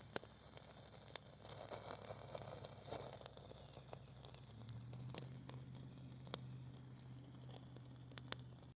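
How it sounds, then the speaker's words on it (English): A flipped steak sizzles in a pan outdoors, a steady bright hiss with occasional pops and crackles, the frying settling into a fuller, lower sputter partway through. "I just flipped that steak"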